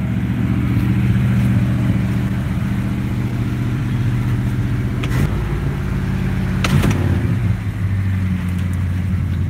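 A cold car engine idles steadily just after a clutch swap, a close, even low rumble with a couple of brief knocks or clicks partway through.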